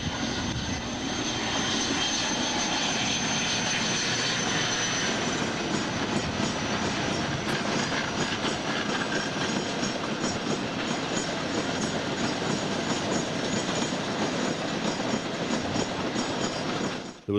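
A British Rail Class 56 diesel locomotive roars continuously, loud and close, with a dense steady engine drone that holds for the whole stretch and has no speech over it.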